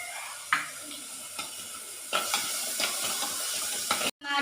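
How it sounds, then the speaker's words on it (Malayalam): Onion and tomato sauté in a pan for a Kerala sardine curry, a steady close sizzle with the scrape of a spoon stirring a few times and a short break near the end. "നല്ല വഴറ്റി കൊടുക്കുന്നു നന്നായി വഴറ്റി കൊടുക്കും"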